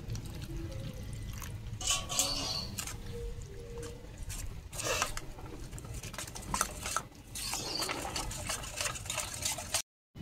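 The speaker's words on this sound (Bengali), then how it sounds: "কর্নফ্লাওয়ারে জল দিয়ে দিচ্ছি।" Water is poured into cornflour in a home kitchen while making banana-flower chops, a close, steady trickling and splashing that runs for several seconds with small surges, then cuts off abruptly near the end, without speech.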